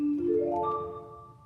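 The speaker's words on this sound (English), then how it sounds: "On its own, by the way, the marimba sounds like this." A single mallet-like tone strikes and rings out, a bright note with a quick attack and a soft, fading decay, from the marimba stop of the Kotzschmar pipe organ.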